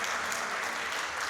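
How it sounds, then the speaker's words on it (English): An audience at a child prodigy awards ceremony in Dubai claps steadily for the award winners, a dense, even wash of applause filling the room without pause. "Can we hear a loud round of applause"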